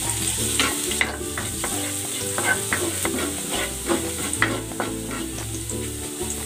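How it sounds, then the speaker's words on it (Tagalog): Garlic sautés in a pan with a loud, continuous sizzle and crackle, while a utensil scrapes and stirs in repeated strokes, close up and with nobody speaking. "Magigisa na ako ng bawang."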